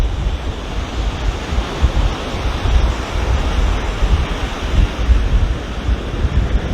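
Strong, continuous wind buffeting the microphone on the sea cliffs of Bathsheba, Barbados, with surf rumbling beneath, a loud, steady roar with gusting swells.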